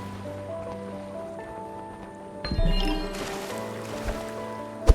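Kite surfing over water in an indie video game: a soft continuous wash of waves and wind with a sustained musical drone, swelling into a louder splash-like surge midway, then settling with scattered small chimes and a sharp click at the end.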